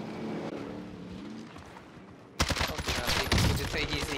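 Gunfire in the Warzone video game: after a quieter engine-like hum, a sudden loud burst of rapid automatic shots erupts and continues densely to the end.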